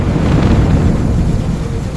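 Steady low rumble of thunder with rain noise, continuous and fairly loud, no voices.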